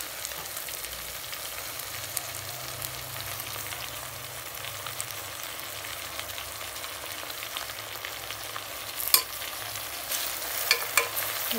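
Spinach with ginger garlic paste fries in a pan with a steady sizzling hiss, and a few sharp scrapes and clicks of stirring come near the end.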